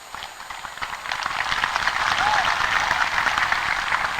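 An audience at an Islamic lecture by Ustadz Adi Hidayat in Aceh claps in a dense, sustained patter that builds gradually and stays fairly soft, with no speech over it.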